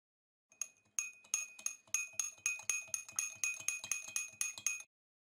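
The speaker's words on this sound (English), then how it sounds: "Even after stirring again, the same thing happens." A spoon stirring salt into oil in a drinking glass, making a quick, even run of bright clinks against the glass, close and fairly quiet, then stopping abruptly.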